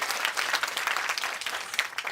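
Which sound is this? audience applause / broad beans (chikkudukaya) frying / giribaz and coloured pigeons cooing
audience applause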